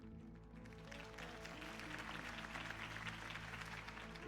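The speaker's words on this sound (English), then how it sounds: "If only Mr. Wayne, my campaign's largest backer, could have heard that applause" A dense crowd at a campaign rally for Harvey Dent, from Batman: The Telltale Series, applauds continuously. The sustained, even wash of clapping runs throughout, with a low musical hum beneath it and no talking.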